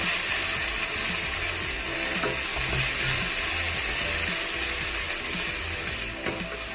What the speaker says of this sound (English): Now that the prawns are cooked, I'm going to cook the scallops next